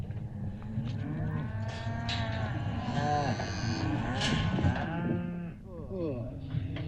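Herd of cows mooing and bawling at a ranch while being loaded onto a truck, several overlapping nearby calls of varied pitch over a steady rumble, with people talking underneath.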